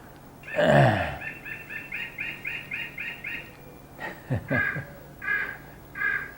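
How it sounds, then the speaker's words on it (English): Birds call outdoors, with one loud harsh caw followed by a quick series of short chirps, then several more crow-like caws, all fairly close and with no talking. "That's the birds."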